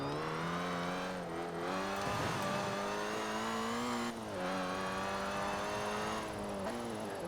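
Engine of a classic Citroen DS in the racing game Forza Horizon 4 drones steadily with a strong tonal whine, its pitch rising and dipping through gear and throttle changes, loud and continuous with no talking.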